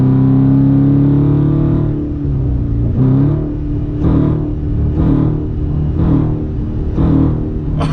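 A 2019 Dodge Charger R/T with an aFe cold air intake rumbles close by, giving one long rev and then a string of short throttle blips, each with a brief suction whoosh, about once a second.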